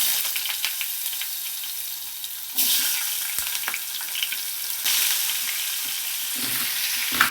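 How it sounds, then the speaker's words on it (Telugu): Paneer pieces with turmeric dropped into hot oil, a loud, bright sizzle that surges as more goes in, with scattered spatula scrapes and clinks, heard close and alone. "ఆయిల్ వేడయ్యాక 1/2 టేబుల్ స్పూను పసుపు వేసుకోవాలి. కట్ చేసుకున్న పన్నీర్ పీసులు వేసుకోవాలి."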